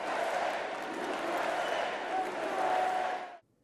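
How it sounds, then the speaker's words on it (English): A packed Republican convention crowd roars and applauds as Donald Trump accepts the party's nomination, a dense, sustained wave of cheering and clapping that swells slightly before cutting off abruptly. "His Republican rival Donald Trump accepted his party's nomination to thunderous applause."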